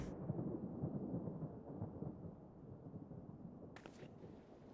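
Rolling thunder rumbles through a stormy scene in the video game Final Fantasy XIV: A Realm Reborn, a broad low roar that holds steady before a brief crackle near the end.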